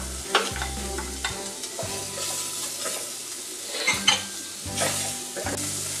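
Onion and garlic sizzle steadily while frying in a pan, loud and close, with repeated stirring scrapes and clinks of a utensil against the pan.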